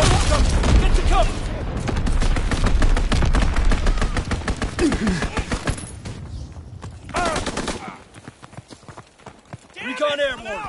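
Video game combat sounds with dense, rapid gunfire and heavy mortar impacts, loud and continuous for several seconds before thinning into scattered bursts, with a game voice calling out alongside.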